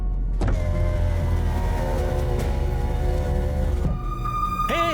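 A car in a South Indian action movie scene, driving with a steady close engine hum that shifts near the end as it slows to a stop, followed by a short whirring whine.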